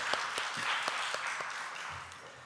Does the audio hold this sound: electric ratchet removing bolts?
no